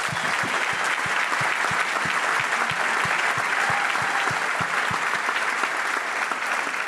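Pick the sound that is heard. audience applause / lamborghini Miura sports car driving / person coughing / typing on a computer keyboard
audience applause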